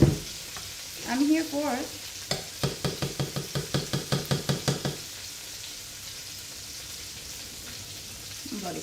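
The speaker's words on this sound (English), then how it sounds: "The sizzle of the oil is sexy" Oil frying in a home kitchen pan, with a run of about ten evenly spaced knocks or taps in the middle. A voice speaks briefly near the start, and a soft hiss continues underneath.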